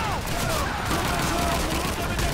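Rapid gunfire in a Call of Duty 2 World War II battle, dense overlapping shots crackling continuously with a distant, busy character under loud, steady combat noise.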